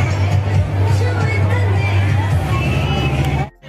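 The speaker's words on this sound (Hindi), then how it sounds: "क्योंकि भीड़ भाड़ बहुत है यहाँ पे" A dense crowd mills around a busy fair near Delhi's Red Fort, producing a loud, constant hubbub of overlapping voices with low rumbling traffic underneath, cutting off abruptly at the end.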